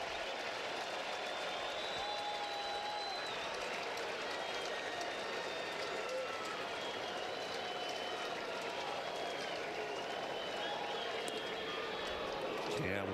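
A big Saturday baseball crowd in Cincinnati roars on its feet at the Reds' ballpark, a dense, steady wash of cheering and clapping from a packed stadium that sits at a distance and holds level throughout.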